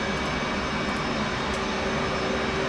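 The right engine of an F/A-18C jet running in DCS World, a steady, loud, continuous broadband roar with a faint high whine on top and no variation across the span.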